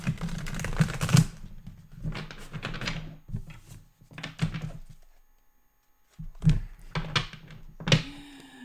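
Tarot cards being shuffled in bursts of riffling and tapping, several quick clusters separated by short pauses, close and fairly quiet with no talking.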